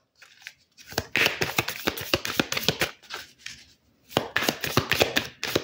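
Tarot cards shuffled by hand at close range, crisp riffling bursts in two loud runs separated by a short pause, with no talking.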